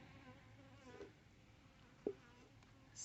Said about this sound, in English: Look at that little bee struggling to get out.